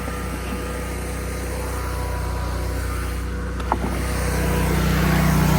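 A Hud-son Oscar 336 sawmill carriage speeds up as it exits the log, a loud steady engine drone with a constant hum that grows a little stronger toward the end, marked by one brief knock.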